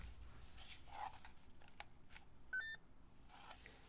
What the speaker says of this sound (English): hear the beep?